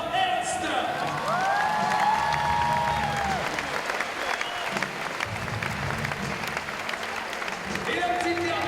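Crowd applause and cheering for a young Austrian climber at the women's lead final of the Climbing World Championships in Paris, sustained clapping with whoops and shouts while an announcer talks over it.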